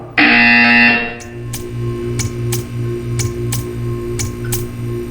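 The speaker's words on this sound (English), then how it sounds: "You will hear a buzzer." Portal 2 test-chamber buzzer: a loud harsh electronic tone lasting about a second, followed by a steady run of evenly spaced ticks against a low hum.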